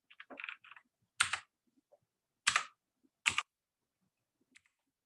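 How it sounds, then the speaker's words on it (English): Keystrokes on a computer keyboard come in short, sharp bursts separated by pauses: a quick cluster of taps, then a few louder single clacks, close up with no talking. "Okay, fine, be that way, I'll just type it."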